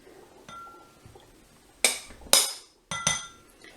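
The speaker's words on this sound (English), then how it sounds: "Okay, so I'm just going to scrape the excess off with my spatula" A spatula scrapes excess chocolate across a hard surface in a few sharp, bright strokes, each a loud rasping burst after a quieter start with faint taps.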